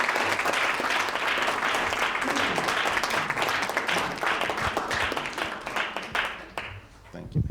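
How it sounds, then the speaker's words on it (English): A large audience applauds to welcome a speaker to the stage, with loud, sustained clapping that gradually fades toward the end amid some crowd voices. "if you can give a big round of applause"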